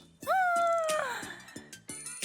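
A cartoonish cat meows in a video game, a rising, bright mew that glides downward, followed by softer game sounds and clicks.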